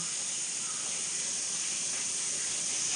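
Water at a rolling boil beneath a fish steamer on a kitchen stove, heard as a steady, loud hiss of steam that runs unbroken and alone for the whole stretch before cutting off.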